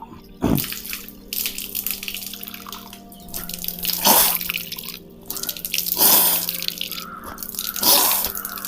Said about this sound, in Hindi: पहले सीधे हाथ से नाक में पानी डालेंगे और उल्टे हाथ से नाक साफ करेंगे